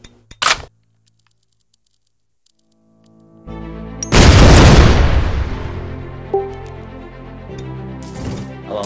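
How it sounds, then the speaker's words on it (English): A shotgun fires in a video game, one loud booming blast after a stretch of quiet ticks, decaying into a long rumbling tail with a sharper shot near the end. "shotgun."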